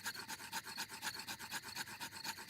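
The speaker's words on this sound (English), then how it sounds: "Daddy Pig is rubbing the two sticks together to light the campfire." Rapid wood-on-wood rubbing of two sticks together to light a campfire in a cartoon, a steady back-and-forth rasp repeating about five times a second, close and continuous.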